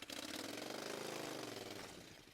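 A roughly 30-year-old motorcycle with crusty carburetor jets runs close by, a steady, slightly rough engine note with a fast regular pulse that holds for about two seconds and then eases a little.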